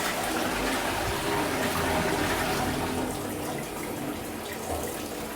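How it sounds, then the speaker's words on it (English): Water poured into drain traps at a property, a steady close splashing and rushing flow that continues for the full length with slight dips in level. "Keep the traps full by putting some water in just to make sure that nothing comes up."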